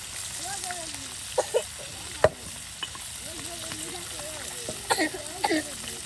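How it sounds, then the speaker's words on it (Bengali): Tilapia fish frying in hot oil in a pan, a steady low crackle and sizzle running throughout, with a few sharp utensil clicks and a voice talking over it. "একদিকে মাছ ভেজে নেওয়া হচ্ছে"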